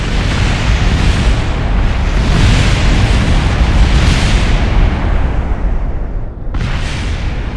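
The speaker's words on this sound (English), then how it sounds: "That was a magnificent kersplosion" A rocket blows up at launch in the video game Kerbal Space Program, producing a loud, continuous roaring rumble of explosion and fire that fills the clip, dips briefly near the end, then surges again.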